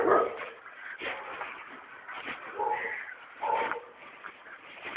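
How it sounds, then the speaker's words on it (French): A German shepherd barks and yips in a few short, moderately loud bursts spread across the stretch, with some whimpering tones between them and no talk over it. "c'est un berger allemand"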